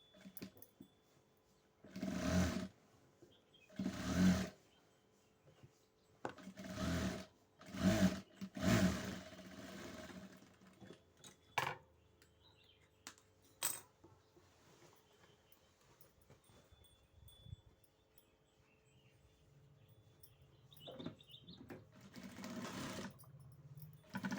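A sewing machine stitches a border onto a dress in several short, loud whirring bursts separated by pauses, followed by a longer stretch of quieter, intermittent machine noise nearby.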